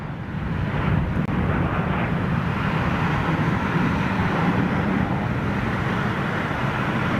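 A United Boeing 767 jet airliner passes with a steady, broad engine roar that holds loud and even throughout, with no voices.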